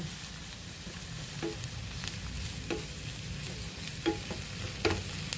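Bagoong sautéing in a pan after browned garlic and onion, a steady low sizzle broken by scattered scraping stirs and light clinks of a spatula over several seconds, no talking.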